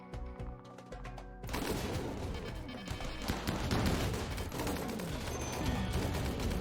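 Dense, continuous rattling bursts of light machine gun turret fire from the video game Rimworld, loud and overlapping after a sparser opening of scattered shots.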